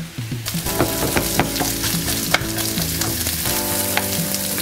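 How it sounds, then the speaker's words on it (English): Onions fry in a hot pan with a loud, dense sizzle, joined by occasional stirring scrapes and clicks, close up and continuous with no talking. "I like to cook the onions a little bit first"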